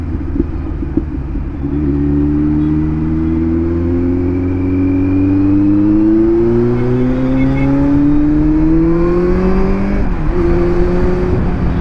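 A superbike engine, one of several including a ZX10R, Z900, GT650 and Suzuki GSX-R 1000, revs hard during a night ride, its pitch climbing steadily as the rear wheel spins, loud, close and continuous with wind rush.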